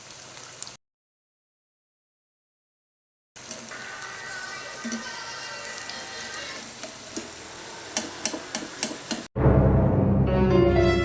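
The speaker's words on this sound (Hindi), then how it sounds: "मीडियम लो फ्लेम पे पहली दफ़ा में फ्राई किया और अब मीडियम हाई पे इसको फ्राई कर रहे हैं।" Chicken nuggets deep-frying in oil over a medium-high flame give a steady crackling sizzle with scattered pops, broken by a gap of silence early on, then ending with a louder, fuller burst of frying.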